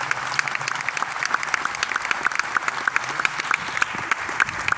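A church congregation at a Corpus Christi Thursday Mass breaks into sustained, lively applause during the bishop's homily, with dense, rhythmic clapping close by and little else audible.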